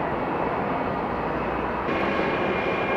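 An Air Tran airliner in fresh new paint at Atlanta's airport roars steadily and loudly nearby, a broad continuous jet engine rush that holds throughout and rises slightly near the end.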